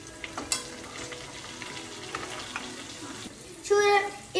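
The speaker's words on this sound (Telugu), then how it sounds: "ఫ్రై అయినాక టమాటో వేస్తున్నాం." Tomato dropped into a frying pan with chillies: a steady sizzle with light stirring scrapes, then a louder burst of hissing near the end, close and with no clear speech.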